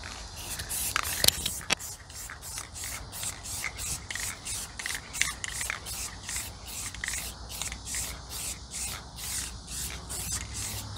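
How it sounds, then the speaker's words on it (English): Clear gloss enamel is sprayed onto cracked RV graphics during a restoration, giving a long series of short, regular hissing spray bursts at close range, evenly spaced throughout with no talk. "And so now we're going to put on the clear gloss enamel."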